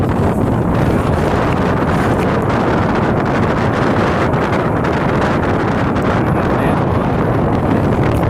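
Strong wind at the Wupatki Pueblo ruin buffets the microphone in a loud, continuous roaring rush that hardly varies over eight seconds, with no talking.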